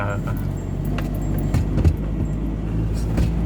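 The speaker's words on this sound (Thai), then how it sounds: "เดี๋ยวไปดู Ranger ออกจากสวนได้เลยครับ" A Ford Ranger pickup crawls in first gear out of a palm plantation, its engine a steady, close, low rumble with occasional knocks and rattles from the cab.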